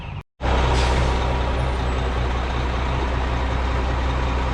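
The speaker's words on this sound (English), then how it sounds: "I believe this truck's coming for us." A heavy truck pulls up at a 1905 Federal-style house under renovation, its loud engine rumbling steadily close by after a brief gap, with air brakes hissing as it arrives.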